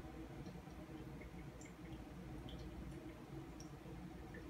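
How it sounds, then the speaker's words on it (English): Water poured over ground coffee in a Kalita Wave dripper makes a quiet, continuous trickling hiss with occasional light drips, steady and close throughout with no one talking. "you're going to pour continuously every 30 seconds, adding about 60 grams of water each time."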